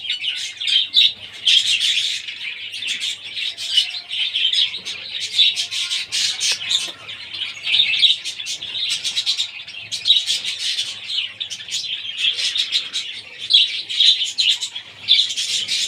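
Small birds chirp and tweet continuously at a feeder, with bright, rapid calls repeating in bursts throughout, fairly close and clear with no talking.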